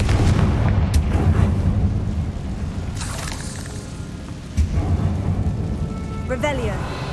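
Confringo fire spell from Hogwarts Legacy bursting in a loud boom, followed by rumbling blast noise and lingering crackle over a steady low game ambience.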